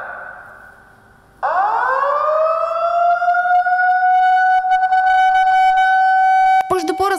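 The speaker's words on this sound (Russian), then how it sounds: "Раздается звук сирены" A loud fire station alarm siren winds up from a low growl to a sustained wailing tone, holding steady nearby, with a brief clatter and fade at the end.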